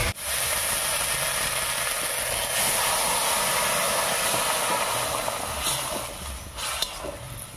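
Cooked mixed vegetable curry tipped into a hot pan of ginger paste and green chili gives a steady, loud hiss that fills the whole stretch, easing slightly near the end.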